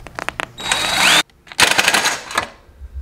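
A power drill with a step bit bores into metal on a go-kart: a few quick taps, then a loud steady whine that stops abruptly and resumes in a rougher, chattering burst.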